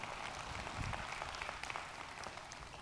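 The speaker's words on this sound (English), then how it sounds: "you just got applause for pouring" Faint audience applause in a church service, a steady wash of distant clapping lasting a few seconds with no clear talk over it.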